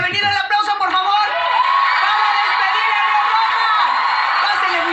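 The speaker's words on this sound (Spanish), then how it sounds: "El aplauso, por favor." Studio audience at a children's TV talent show cheering, whooping and shouting loudly and steadily, a dense crowd roar over a bright wash of high voices with no gaps.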